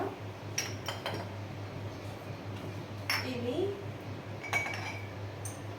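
Small clinks and taps of glass as ground pepper is tipped into a reused glass coffee jar in a home kitchen, a few light chinks spread over a steady low hum, with faint background voices.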